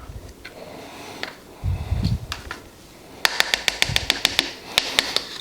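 A spoon scraping and tapping around a bowl while folding a vegan butter mixture, with a soft rustle early on and then a quick run of sharp, close clicks and knocks against the sides.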